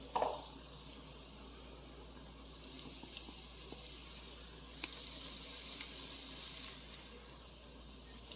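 Chopped onions sauté in a pan, a soft steady sizzle with faint scattered clicks and taps, quiet and alone.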